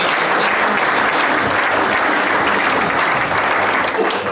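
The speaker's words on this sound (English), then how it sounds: "Give them a nice round of applause also." A roomful of guests at a PGA South Africa awards and graduation ceremony applauds Corporate Golf Solutions, a loud, continuous burst of many hands clapping that stays even throughout.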